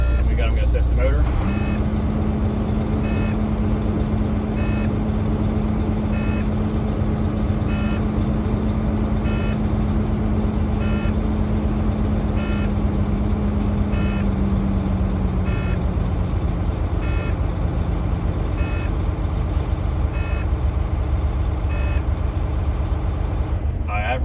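A truck's engine runs at a raised idle to build air brake pressure, a loud steady drone with a low tone and faint regular beeping from the cab, while someone speaks over it.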